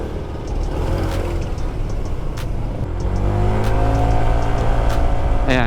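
A Honda ADV 160 scooter with a 17g flyball CVT setup accelerates hard, its engine note climbing steadily in pitch and growing louder over several seconds, close and continuous with no talk.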